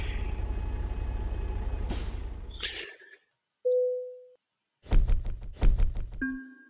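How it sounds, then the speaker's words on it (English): A truck trailer is dropped in American Truck Simulator: a sustained engine rumble cuts off, a short hiss and a tone follow, then a burst of rapid mechanical clunks and a final beep-like chime. "drop our trailer"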